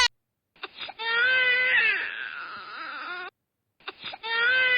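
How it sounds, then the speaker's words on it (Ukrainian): A child crying loudly in bursts of wailing sobs, close by, separated by brief silent pauses. "я щось почула, що плаче хтось із діток"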